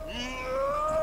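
A cat meows in Mass Effect Andromeda, a single drawn-out rising then falling meow, clear and fairly loud.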